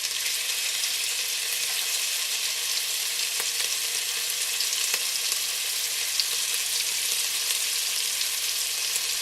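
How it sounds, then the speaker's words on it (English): Beef pieces fry in browned butter in a hot pan, giving a steady, loud, even sizzle throughout with a few faint clicks and no voices. "I'm going to start adding in my meat."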